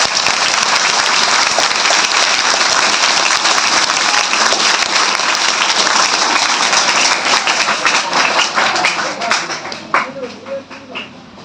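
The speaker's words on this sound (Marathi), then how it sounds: "स्वतःसाठी टाळ्या झाल्याच पाहिजे" A school audience breaks into sustained, dense applause, many hands clapping loudly and continuously before it thins out and fades toward the end.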